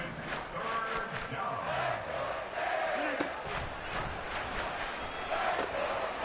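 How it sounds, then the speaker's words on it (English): Football stadium crowd at fever pitch, a loud roaring cheer with rising shouts and whistle-like cries over a constant din, while a commentator talks over it. "Work to do here with a crowd at fever pitch."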